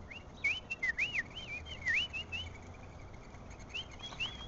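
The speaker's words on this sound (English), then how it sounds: "if you want to see birds go crazy, you just whistle" A person whistles a series of quick sliding notes that swoop up and down, with short gaps between phrases, over a faint background.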